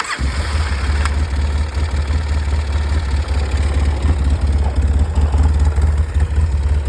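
A Polaris 700 engine runs steadily at a loud, close idle after a brief start, with a deep, even rumble holding throughout.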